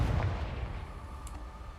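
A Confringo spell explosion in a Harry Potter video game: one low, muffled boom that rolls and fades over a couple of seconds, with a faint sharp tick near the end.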